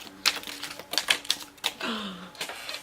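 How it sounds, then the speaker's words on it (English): Tarot cards are shuffled by hand, giving quick crisp clicking and riffling taps in an irregular rhythm, close and fairly quiet, with a brief soft vocal hum near the end. "I'm just gonna keep shuffling. Just keep on shuffling."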